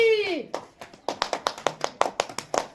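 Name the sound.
children applauding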